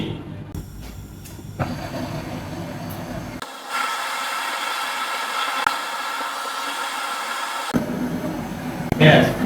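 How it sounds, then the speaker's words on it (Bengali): A torch hisses steadily while brazing a cut copper pipe on an air conditioner, a loud close roaring rush that starts abruptly and holds for several seconds, with someone speaking around it. "আমি যে পাইপটা কেটে রাখছি দেখেন আমি ঝালাই দিয়ে আটকাই দিচ্ছি"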